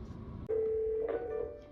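A Cisco 8851/8861 IP desk phone rings with a clear electronic tone that starts abruptly and holds steady, rising briefly in a second note, close and alone.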